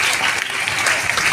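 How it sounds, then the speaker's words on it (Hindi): An audience at a DXN motivational meeting in Nalanda, Bihar claps loudly and steadily, a dense continuous burst of applause filling the room. "कुंदन सर के लिए जोरदार ताली होना चाहिए"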